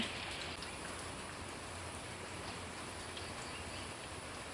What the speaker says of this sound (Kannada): ಸಣ್ಣದಾಗಿ ಮಳೆ ಬರ್ತಾ ಇದೆ